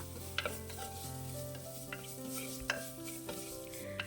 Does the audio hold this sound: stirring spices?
yes